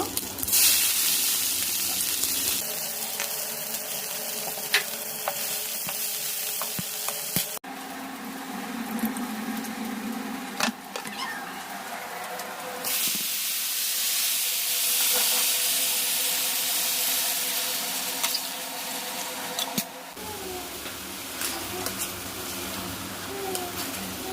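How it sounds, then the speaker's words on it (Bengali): Onion and garlic fry in a hot pan, giving a loud, continuous sizzling hiss that swells and eases as the contents are stirred, with clattering utensils now and then. "আমি এখানে এই পেঁয়াজ রসুনটা দিয়ে দিব।"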